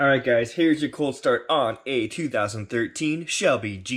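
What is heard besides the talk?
No distinct noise like a dog, phone or traffic.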